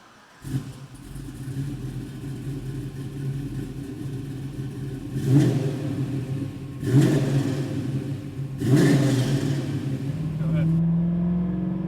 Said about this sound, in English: we're driving in the 78 Malibu, and this thing is such a pleasure to drive